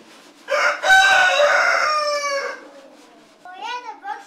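A young rooster crows close by, one loud drawn-out call lasting about two seconds, then a shorter broken cluck or crow follows after a brief pause.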